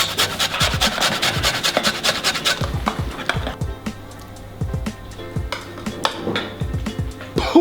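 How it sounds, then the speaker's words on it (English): An orange being zested for carrot cake frosting, with a steady run of scratchy rasping strokes against the grater that slow to intermittent scrapes, close and fairly loud. "A little bit more orange zest."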